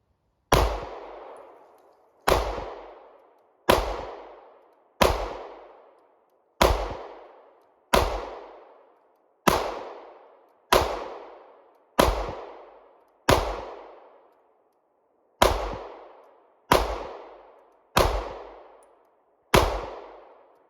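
Pistol shots from CZ clone handguns firing 124 grain ammunition ring out as fourteen sharp, loud reports at a steady pace, each with a short decaying echo, with no talking.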